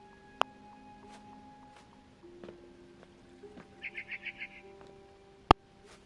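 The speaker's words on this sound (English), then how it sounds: "Then I heard chirping outside my window." A barn swallow chirps outside a window in the game What Remains of Edith Finch, a quick series of five or six soft, high chirps in the middle of a quiet ambient scene with occasional sharp clicks.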